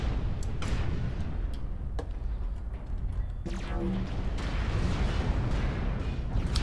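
An Atlas mech in MechWarrior Online firing its AC20 autocannon and PPCs, sharp heavy weapon blasts at irregular intervals over a constant low mechanical rumble, with a ringing discharge midway.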